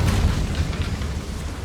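A fiery Incendio spell cast in Hogwarts Legacy, a deep roaring whoosh and boom that rumbles continuously with crackling burst texture, loud and sustained through the whole moment.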